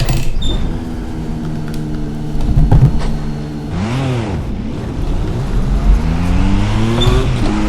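A Formula RSS 1986 V6 race car in the Assetto Corsa racing game, engine loud and close, revving through rising and falling gear pitches with a sharp swoop mid-run and faint tire noise.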